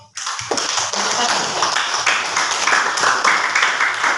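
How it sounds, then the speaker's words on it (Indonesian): Classroom applause for a student group: a burst of many hands clapping starts abruptly and carries on steadily, dense and close, with no talking over it. "kita beri aplaus untuk kelompok"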